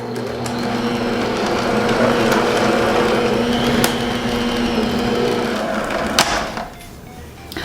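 An electric hand mixer beats Grinch cookie dough with a loud, steady motor whir. It runs evenly for about six seconds, then cuts off near the end.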